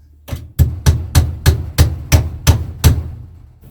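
Nine sharp, evenly spaced hammer blows ring out close by, each a crisp metallic knock, as a nail is driven in while hanging homemade wire rabbit cages.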